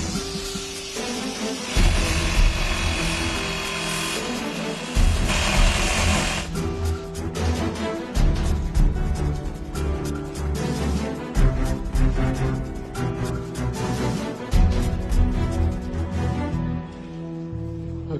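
Cutting into a bolt recovered from a Boeing 737 aircraft fuel tank during a crash investigation: steady mechanical whirring and grinding that runs throughout with rhythmic pulsing and several shifts in intensity, close and fairly loud, under a musical bed.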